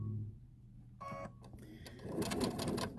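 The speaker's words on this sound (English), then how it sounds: "you can just kind of slowly sew" Sewing machine stitching slowly around a fabric curve while quilting with a curve ruler, heard as a brief mechanical whirr that stops and starts again before a denser, louder run of stitching near the end.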